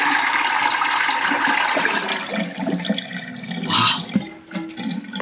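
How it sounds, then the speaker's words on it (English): Water gushes and splashes from a broken toilet with a damaged flapper, a loud, continuous rushing flow that churns on steadily for several seconds, close up, with no talking. "Oh man, that's a lot of water."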